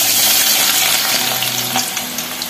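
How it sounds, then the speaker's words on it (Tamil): Sliced onions frying over medium flame in a pan for a chicken dish, a loud, dense, continuous sizzle up close with faint stirring and scraping under the hiss. "இதை போட்டு நல்லா ஃப்ரை பண்ணிப்போம்"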